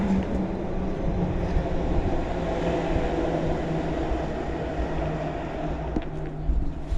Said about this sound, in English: I think I can hear a train coming.